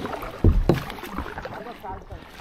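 Kayak paddling and drifting on water, with a couple of close paddle splashes and gurgles over a steady wash, while a voice talks over it.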